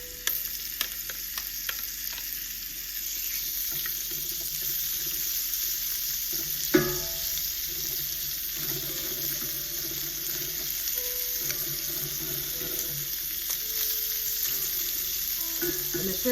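Marinated shrimp seasoned with salt, pepper, garlic pepper and seafood seasoning sizzle steadily in a pan, a continuous crackling hiss with occasional stirring clinks and one sharp knock partway through.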